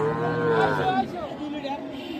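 A local deshi-breed dairy cow lets out a long, loud moo up close, followed by a lower, drawn-out second call.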